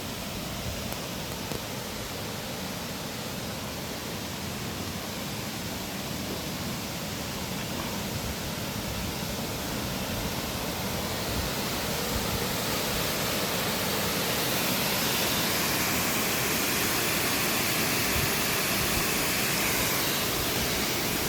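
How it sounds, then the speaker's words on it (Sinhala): Water pours steadily over the 80-metre Henry Parker annicut weir at Ibbagamuwa, a dense, continuous roar that holds level throughout and swells slightly toward the end, with no voices. "වතුර ටික ලස්සනට වැටෙනවා."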